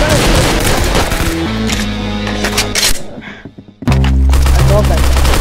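Rapid video game gunfire bursts out loud over a steady game music bed, broken by a short quieter stretch before loud shots and music return.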